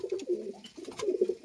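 Large Andhra pigeons cooing close by in soft, rolling low coos, several overlapping calls running steadily with no pause.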